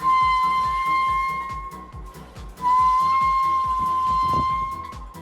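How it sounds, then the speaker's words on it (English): A walrus whistling up close: a sustained high, steady tone that drops out briefly midway then resumes, over rapid rhythmic low pulses beneath it, no talking. "no one was gonna tell me that walruses can whistle?"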